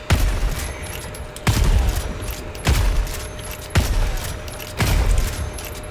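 Heavy gunfire from the video game Helldivers 2 bursts in about five loud, evenly spaced blasts, each trailing off into a rumbling tail, with a faint mechanical reload tone running underneath.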